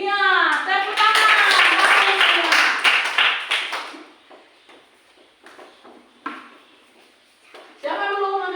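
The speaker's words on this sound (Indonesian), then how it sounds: "tepuk tangan." A classroom of students claps hands in a brisk burst for a few seconds, then fades to scattered taps, with voices speaking before and after.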